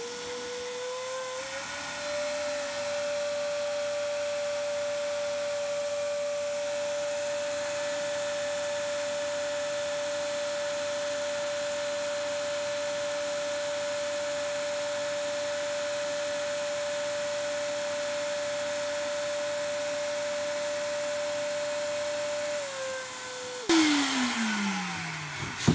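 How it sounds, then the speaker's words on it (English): A vacuum sucks the air out of a bagged mattress pillow top with a loud, steady whine that holds its pitch for over twenty seconds. It then winds down with a falling tone and a final clatter. "let me suck the air out of it real quick"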